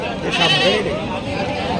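A goat's short, wavering bleat rises over background chatter at a goat market in Parola, with a voice speaking nearby.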